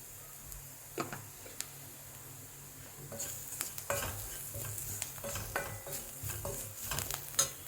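Onions fry in oil while a spoon stirs them and asafoetida powder goes in, making a quiet, steady sizzle broken by sharp, irregular scrapes and taps of the utensil against the pan.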